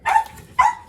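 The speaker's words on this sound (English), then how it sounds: "Sorry, don't mind my crazy dog." A dog barks twice at home, two short sharp yelps close to the microphone with a brief pause between them.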